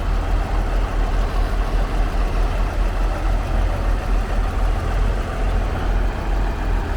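A loader's engine runs steadily at a rumbling idle, loud and close, with an unbroken low drone and no other sounds over it.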